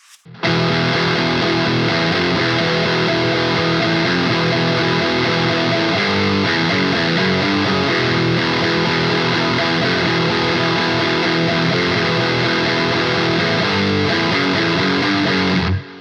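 A distorted electric guitar plays a steady, dense verse riff with no pauses, loud and close, running the full length without any voice.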